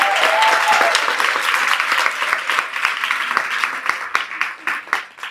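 A crowd claps enthusiastically, loud applause at first that thins into scattered individual claps toward the end.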